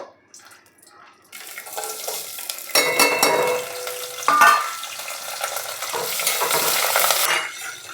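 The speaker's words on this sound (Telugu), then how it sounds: "పోపు వేగుతుంది కదా" Crackling sizzle of tempering spices (seeds, lentils, dried red chillies, garlic, curry leaves) frying in hot oil, beginning quietly then rising sharply, with clinks and stirring, continuous and close.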